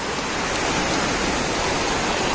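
Heavy runoff from a cloudburst-like downpour pours through the spillway at a Datta temple, a steady, dense rushing wash of water that fills the whole stretch without a break.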